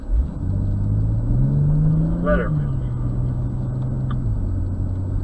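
A BMW drives a slalom course at a performance driving school. Its engine rumbles and swells, then eases off at mid distance, and a voice speaks briefly over it.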